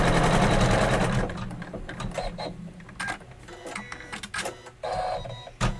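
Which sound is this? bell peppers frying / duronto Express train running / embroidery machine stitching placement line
embroidery machine stitching placement line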